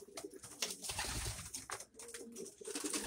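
White doves coo softly in a breeding loft full of young birds, low murmuring calls repeating against a busy, noisy background with no talking.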